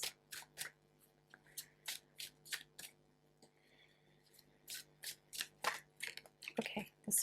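Tarot cards are shuffled in crisp, rapid riffling bursts, with brief pauses between, and a card is drawn; the sound is close and fairly quiet, with a soft voice briefly in the background.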